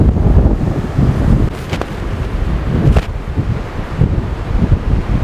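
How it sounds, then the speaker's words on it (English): A rapid river near Buena Vista, Colorado rushes as a loud, continuous broadband roar, heavily buffeted by wind on the microphone, with no voices. "This is a very rapid river"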